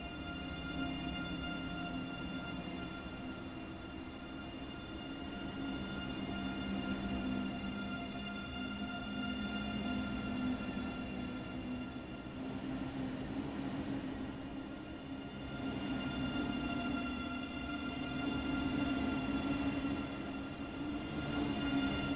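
An ICE high-speed train running in Train Sim World 3 on the Lübeck to Dresden route, with a continuous rumbling drone and steady tonal whine that swell slightly in places, alone with no voices.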